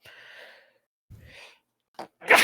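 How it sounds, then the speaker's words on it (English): A few breathy inhales and a short sharp burst at the end, like a sneeze building and finally breaking, close and quiet with pauses between. "Try not to sneeze."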